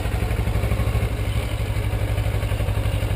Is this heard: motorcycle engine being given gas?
yes